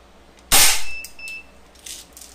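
A pump air gun fires a single sharp, loud crack into a lump of plasticine during a chronograph velocity test, followed by faint ringing tones and quiet room noise.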